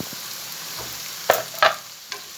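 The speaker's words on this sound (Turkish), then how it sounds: "şimdi kavurdum soğanını, biberini. Patateslerimizi de atıyoruz içine." Potatoes tossed into a pan of frying mushrooms, onions and peppers, making a steady sizzle with a few brief stirring scrapes and thumps, close up.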